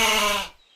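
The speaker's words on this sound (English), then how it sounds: "Said the goat." A single goat bleat, short and fairly loud, cut off cleanly after about half a second, with nothing behind it.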